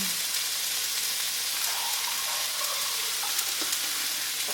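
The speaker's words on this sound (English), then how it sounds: "I just have the noodles wilting in there. And these vegetables are all sauteed here now." Vegetables sauté in a pan while noodles wilt in a pot nearby, producing a continuous dense hiss of sizzling at moderate level with faint occasional clicks and stirring.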